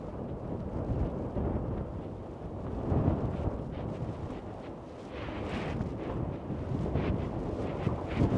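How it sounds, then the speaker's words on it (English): Strong, gusty wind buffets the microphone on an Egyptian film set outdoors, a steady low roaring rumble that swells and dips with no voices. "There's a hell of a draft today. It's blowing a hoolie"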